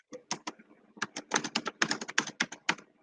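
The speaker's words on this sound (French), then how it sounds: "Qui c'est qui touche là sur le clavier là?" Rapid typing on a computer keyboard, close and crisp, with irregular bursts of clicking keystrokes and brief pauses, with no talk over it.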